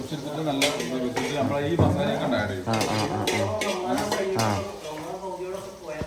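Onions frying for camel dum biriyani masala, with metal utensils clanking against a large pot and stirring scrapes over a steady sizzle; a voice talks intermittently nearby.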